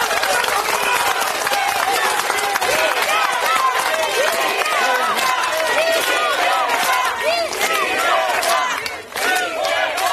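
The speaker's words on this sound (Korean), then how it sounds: "감사한 마음과 힘찬 박수" Loud crowd at an outdoor election campaign rally in Gunsan, with clapping mixed into cheering and shouting that surges continuously and dips briefly near the end.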